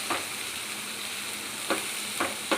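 Idli-batter uttapam frying on a hot pan, a steady soft sizzle hissing throughout with a few brief louder crackles, heard close and alone.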